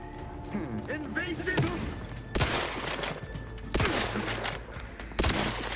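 Gunshots in The Outer Worlds 2, three sharp loud blasts spaced a second or so apart over game ambience, with a person talking throughout.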